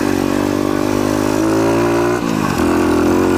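A pit bike engine buzzes loudly up close on a street ride, holding a steady high-revving drone before briefly dropping off and picking back up again.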